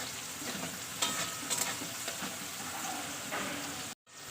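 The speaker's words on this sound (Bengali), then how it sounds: "এটাকে আমি হালকাভাবে ভেজে নেবো" Cashew nuts frying lightly in a pan with raisins make a quiet, steady sizzle broken by a few scraping stirs and clinks, close by, with a short dropout near the end.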